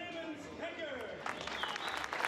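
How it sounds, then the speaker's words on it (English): A crowd claps in a dense, rising patter for drivers on the podium at a 2022 Zolder race, with a commentator talking over the applause. "A massive round of applause"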